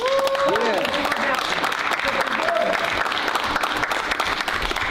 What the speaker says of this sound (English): another bigger round of applause for all of these people